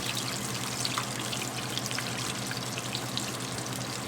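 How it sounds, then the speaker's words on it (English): Chicken pieces frying in hot oil give a steady, dense crackle and sizzle with scattered small pops, close and continuous throughout. "As I'm frying the last thing"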